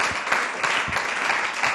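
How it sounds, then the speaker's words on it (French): An audience applauds and cheers after a spoken testimony, a dense, steady wash of clapping that stays loud and close from start to finish. "on peut acclamer pour ce témoignage"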